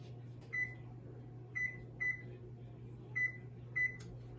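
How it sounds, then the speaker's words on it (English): Five short, bright electronic beeps, spaced irregularly over a low steady hum, sound from an oven's control panel as it is switched on and set to 450 degrees. "So I'm going to put my oven on 450."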